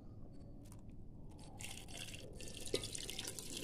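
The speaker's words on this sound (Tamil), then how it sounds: "இப்போது நம்ம ஒரு ஜக் நிறைய தண்ணியை சேர்க்க போகிறோம்" Water poured from a jug into a pressure cooker while preparing mutton paya soup, a steady splashing, trickling stream close by that grows brighter and fuller partway through, with a single small clink near the end.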